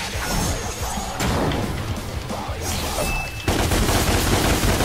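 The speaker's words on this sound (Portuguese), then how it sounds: "eu pulo e ainda consigo atirar enquanto tô no ar" Rapid gunshots and impact crashes from the video game DMC Devil May Cry as the character fires while jumping, a loud, dense volley with whooshes of motion throughout.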